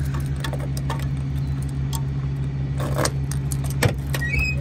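Keys jangle and clink in bursts beside a 1975 Pontiac Trans Am with a 455 HO engine, heard close over a steady low idling hum.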